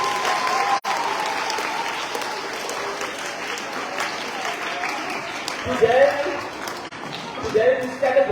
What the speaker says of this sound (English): Let's give the President a warm round of applause.